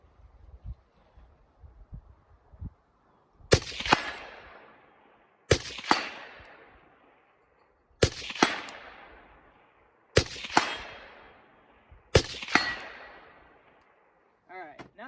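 Five suppressed gunshots fired through a Bowers suppressor fitted with a Griptastic cover, each a sharp, loud, close crack with a short decaying tail, spaced about two seconds apart after a quiet stretch, with no talking.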